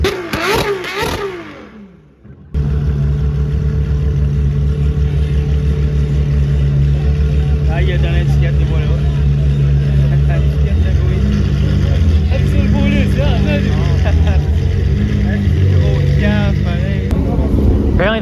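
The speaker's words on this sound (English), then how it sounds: "Craziest sounding 812 I've ever heard in my life." A Ferrari 812 supercar roars through a Montreal street during Grand Prix weekend, its loud, steady engine growl close and sustained with sharp rev bursts, while people talk faintly around it.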